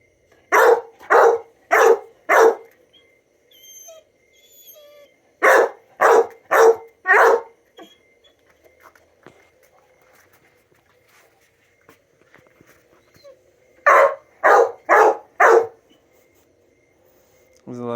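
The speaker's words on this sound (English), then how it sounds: "So ignore the demand barking." A dog named Bear barks in three quick bursts of about four sharp barks each during a training session, with faint footsteps and quiet handling sounds between the bursts.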